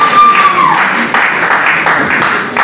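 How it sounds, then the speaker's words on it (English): Audience clapping at a church-style album launch event, a dense broadband wash of hands close by with a fading tone at the start and a few shouts mixed in. "Clap your hand,"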